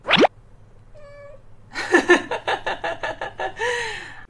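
A cat makes a sharp cry, then gives a short meow followed by a run of quick, breathy huffs and snorts and a final drawn-out meow, all close and clear against quiet.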